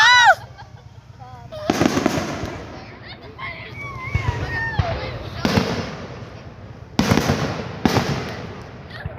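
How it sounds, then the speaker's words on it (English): Commercial fireworks on the Fourth of July: repeated loud, sharp bangs and crackling bursts, with whistling rockets in between, while people and children nearby exclaim and chatter throughout. "These are commercial fireworks."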